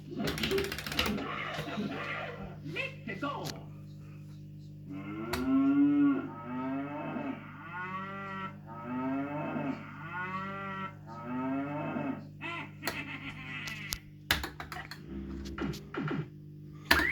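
Cows on Moo Farm in Mario Kart 64 give a run of long, repeated, wavering moos near the middle, over game music and mechanical clattering, with sharp effect sounds at the start and end.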